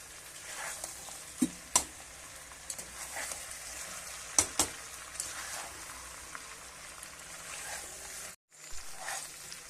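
Chicken dak bungalow curry with fried potatoes sizzles in a pan while a spoon stirs it, giving a steady hiss with scattered sharp scraping taps close by and a brief silent gap near the end.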